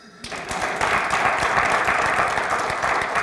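Audience applause swelling in quickly after a brief quiet start, then holding as a dense, even burst of many people clapping, fairly loud and close.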